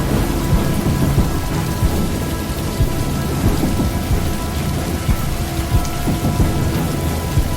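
Steady heavy rainstorm with thunder, a dense continuous wash of rain beating on surfaces and low rumbling thunder rolling underneath throughout, with no voices.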